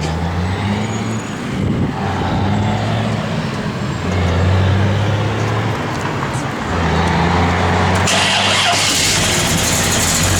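A 1957 Chevrolet 3100 pickup's cammed engine idles with a deep, lumpy, loping rumble that pulses unevenly, heard up close and steady throughout.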